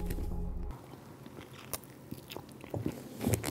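Someone bites into a crispy chicken snack from a viral online trend, giving a close, soft bite followed by quiet scattered chewing and faint crunches, with no strong crackle.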